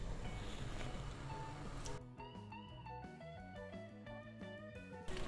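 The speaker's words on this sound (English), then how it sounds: "This is the trick to understand when the oil is hot, when this zucchini will start to fry." Zucchini frying in hot oil for a vegetarian zucchini carbonara, a steady broadband sizzle that runs through the whole clip, with tonal music entering partway and playing over it.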